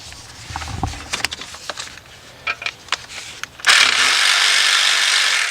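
A 3/8 drive ratchet with a 6-inch extension and 10mm shallow socket loosening a bolt on a Ford EcoSport, Fiesta or Focus engine, giving close, irregular clicking and metallic knocks, then ending in a broad steady hiss.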